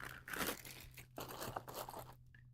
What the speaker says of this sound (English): All right, we'll get that sticker off.